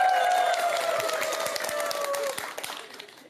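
A live audience at a Buddhist temple Dharma talk claps and cheers just before a monk sings, a dense, loud wash of applause that gradually thins and fades toward the end.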